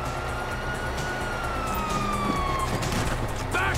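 Police sirens wail in Grand Theft Auto V, rising and falling tones sustained over a dense backdrop of gunfire and game action, loud and continuous throughout.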